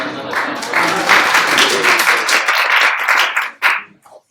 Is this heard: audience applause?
yes